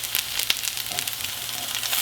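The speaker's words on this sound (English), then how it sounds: "then we're going to fry them from both sides for about 2-3 minutes" Potato and tuna patties fry in a pan, giving a steady, loud, close sizzle with scattered sharp pops and crackles throughout and no talking.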